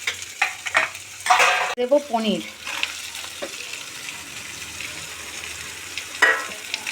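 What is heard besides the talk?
chopped onions and capsicum stirred and frying in a pan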